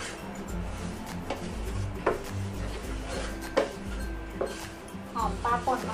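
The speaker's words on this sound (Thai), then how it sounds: "คนให้เข้ากันค่ะ" A spoon stirs a Thai sweet fish sauce dip with dried chili, chili powder and ground dried fish in a bowl, making soft scraping and light clicking sounds while someone talks.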